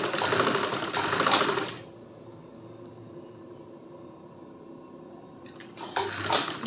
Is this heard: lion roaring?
no